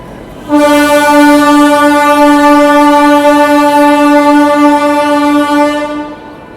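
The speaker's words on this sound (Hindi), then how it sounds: "चलिए भाई शियालदा राजधानी स्किप कर रही है।" The Sealdah Rajdhani Express, running from Sealdah to New Delhi, skips a station and blares a loud, sustained, steady horn up close. The horn cuts in abruptly and holds for about six seconds before fading.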